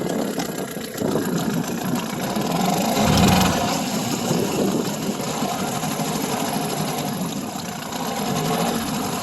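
A boat's inboard engine runs steadily on its first outing in the water, a loud, continuous mid-pitched drone that swells briefly as it is throttled toward idle.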